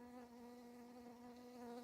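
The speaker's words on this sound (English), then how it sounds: "I know you'll hear that bee buzzing." A bee hovers near the microphone with a steady, even buzz that stays constant throughout, fairly faint and alone with no talk.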